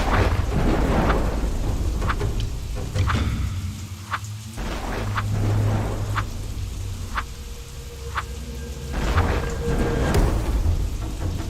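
Steady rain with rumbling thunder in a game setting near a cave entrance, a broad wash of downpour carrying several sharp cracks and low rolls spread across the stretch, loud and close with no talk.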